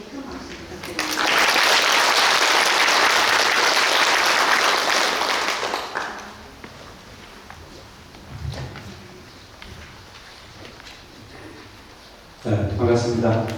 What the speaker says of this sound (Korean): 발표를 맡아주신 월도 스님께 큰 박수 부탁드립니다